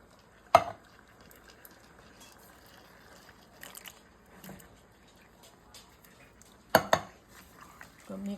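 Drained no-salt petite diced tomatoes being mixed into Mexican rice with green peppers, with occasional loud clanks of a spoon against the pot and soft wet stirring in between.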